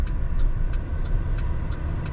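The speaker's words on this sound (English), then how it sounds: "There's a bunch of cars coming." Cars passing on a rural road beside a farm equipment lot, a steady low engine and tire rumble with faint periodic ticking, close and continuous for a couple of seconds.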